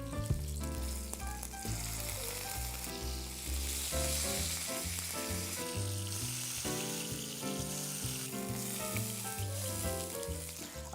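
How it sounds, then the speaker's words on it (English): Beef fillets fry in butter in a pan for a pepper sauce steak, with a continuous soft sizzle under prominent background music and no talking. "Now we have to turn our fillets on one side and roll them in the butter."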